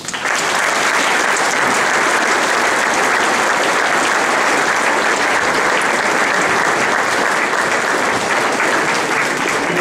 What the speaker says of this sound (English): May we give a round of applause again to Sister Teddy Jones, who has put this program together